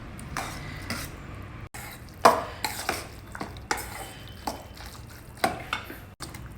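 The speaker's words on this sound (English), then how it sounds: "Now add the required quantity of curd and mix your curd rice very well." Curd rice being mixed in a bowl with a spoon, giving soft wet stirring and scraping with a few sharper clinks of the spoon against the bowl, close and fairly quiet with no talking.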